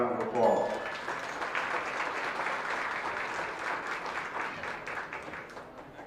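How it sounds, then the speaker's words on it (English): An audience at a county goat show applauds youth showmanship competitors in the ring, a broad, even patter of clapping sustained throughout, with a brief voice near the start. "Let's give them another round of applause."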